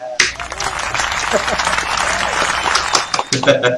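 Applause from residents at a community clean-up gathering in Perak, Malaysia, a steady crackling wash of clapping lasting a few seconds, with voices chattering over it.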